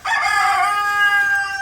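A rooster crowing in a village, one long loud drawn-out call close by, with no talk over it.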